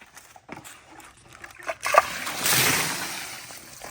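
A wet splash of mud near a new sawmill on rural ground, a few small knocks followed by a sudden spattering burst that trails off into a soft hiss, close by with no talking.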